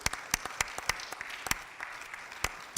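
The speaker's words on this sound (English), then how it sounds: "Donaldson and the Rising Star Baptist Church a round of applause for opening their doors to us?" A small audience claps inside a Baptist church hall, scattered distinct handclaps with a few sharper sounds rising over a low, thin background.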